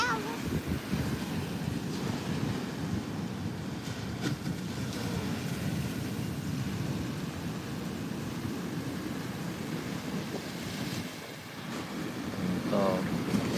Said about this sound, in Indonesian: Ini suasana pagi ini di Pantai Muaro Bayang, Kecamatan Bayang, Kabupaten Pesisir Selatan, Sumatera Barat.